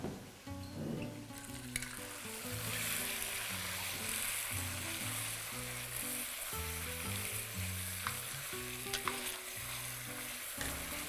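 Chicken sizzles steadily in hot oil with cumin, bay leaf, cardamom and cinnamon for a Bhopali chicken curry, with scraping stir strokes and occasional metallic clinks throughout and no talking.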